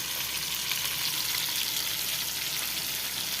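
Chopped onion sizzles in a hot pan for a tomato dish: an even, continuous crackling hiss, close and steady, with no voices.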